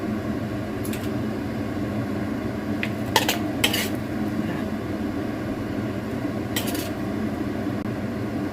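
Crispy fried tilapia stir-fried with holy basil is scooped from the pan onto a plate: a few sharp metal scrapes and clinks, close by, over a steady background hum, with no voices.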